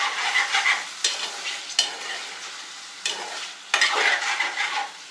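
Chicken liver pieces sizzle steadily in a hot pan while a spoon stirs them in a few distinct scraping bursts, close by with no talking.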